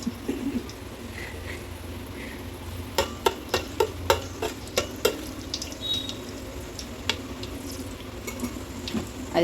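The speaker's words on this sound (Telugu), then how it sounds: "అది కొంచెం ఒక 2 minutes ఫ్రై అవ్వాలి." Whole garam masala spices fry in hot oil, giving a low continuous sizzle broken by a run of sharp clinks and scrapes as the spices are stirred in the pot, with no voices.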